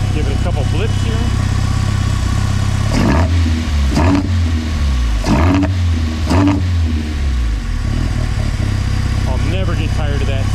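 A Project Zero 20 car engine fitted with a big cam idles with a lumpy, loping rumble. Several sharp throttle blips rise and fall in quick succession, close and loud, before it settles back to the choppy idle.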